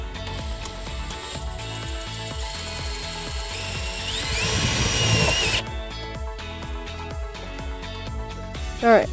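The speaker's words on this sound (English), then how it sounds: "there's nothing that I'm going to hurt at all by drilling into this panel here" A power drill bores into an interior panel of a 2016 Buick Verano during a trailer wiring install. Its high whine rises for about a second and a half, close and loud, over steady background music.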